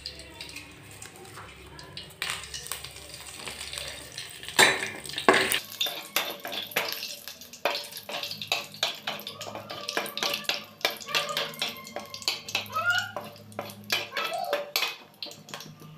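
Chopped capsicum, carrot and beans frying in hot white oil in a pan, with soft sizzling under clattering utensil stirring and scraping, while someone talks over it.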